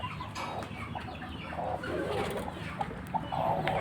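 A bantam hen and her chicks clucking and cooing softly close by, with repeated low murmuring calls and a few brief peeps over a quiet outdoor background.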